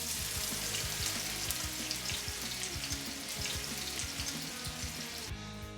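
Parmesan- and egg-white-crusted monkfish fillets frying in a hot pan, a steady close sizzle with crackling pops that continues evenly before dropping off abruptly near the end.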